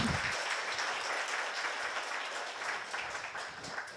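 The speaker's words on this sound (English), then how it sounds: "please give a big round of applause for our speaker" Steady applause from a conference audience for a speaker at PyCon APAC 2023, as dense, even clapping that goes on throughout at moderate loudness, heard slightly distant.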